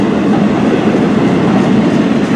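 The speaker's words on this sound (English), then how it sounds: "I think it's a northbound train." A CN M384 freight train with flatcars passing close by in Port Huron, Michigan, a loud, continuous heavy rumble and rolling roar with no pauses.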